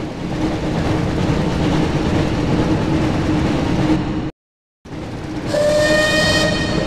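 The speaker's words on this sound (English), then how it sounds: "Pick up the speed boost to stay ahead of the train." Train rumbling loudly and steadily in a tunnel in the PS1 game Harry Potter and the Chamber of Secrets, cutting out briefly, then returning with a sustained whistle or horn tone.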